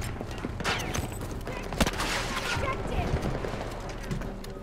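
Gunfire in the video game Battlefield 2042, a dense wash of shots and rattling bursts with one sharper crack in the middle, steady and busy throughout.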